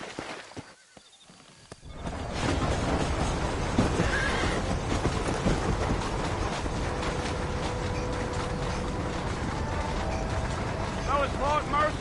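In the Red Dead Redemption video game, a horse whinnies and its hooves clop steadily alongside rattling wagon-like mechanical noise. Quiet at first, the sound swells and stays loud throughout.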